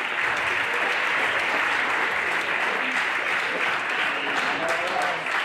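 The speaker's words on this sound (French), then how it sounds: "on applaudit tous les trois" Crowd at an outdoor running race applauding the podium finishers during a prize announcement, sustained loud clapping filling the whole stretch.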